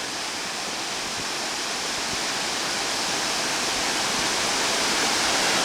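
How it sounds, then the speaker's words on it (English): Waterfalls in Victoria Park, Truro, Nova Scotia, pouring in a steady, loud broadband rush that holds without a break and swells slightly toward the end, with no voices over it. "Very nice looking set of waterfalls."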